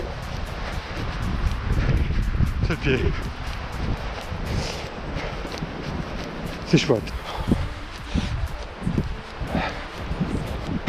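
Gusty wind buffets the microphone as a constant low rumble near a pine forest and the sea, while a person speaks briefly over it outdoors during a trail race.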